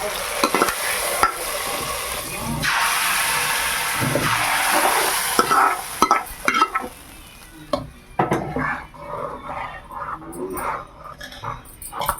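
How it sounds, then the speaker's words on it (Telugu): Loud hissing sizzle as hot tempering hits raw-mango dal, fading after several seconds into stirring, clinks of a spoon against the pot. "ఈ తాలింపుని ఈ పప్పులో వేసేద్దాం"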